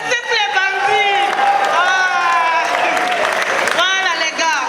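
Applause and cheering from a crowd fill the whole stretch, mixed with loud whooping voices and excited shouts.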